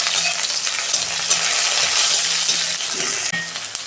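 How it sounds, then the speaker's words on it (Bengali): Onion frying in a pan over a spice tempering with salt and turmeric, for a ridge gourd and pea dal, crackles densely and loudly up close, with stirring scrapes and a light clink. "পেঁয়াজটা আমি ভালো করে 2 মিনিট ভেজে নেব।"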